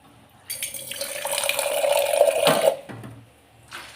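Water pours steadily into a pan for a couple of seconds with a splashing rush, then stops, leaving faint kitchen clatter, while making kesari from semolina.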